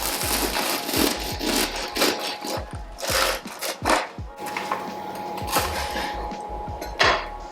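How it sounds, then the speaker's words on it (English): A knife saws through the crackly crust of a homemade sourdough loaf, giving a run of close, loud crunching and scraping strokes in an uneven rhythm. "I'm going to cut myself a slice"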